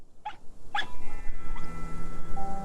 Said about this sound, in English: I like how we're hearing this dog fox thing bark